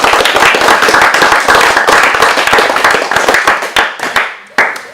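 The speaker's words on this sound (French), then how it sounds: "on va s'applaudir." A crowd applauds at a village flower award celebration, dense continuous clapping from many hands that thins out into a few scattered claps before one last burst near the end.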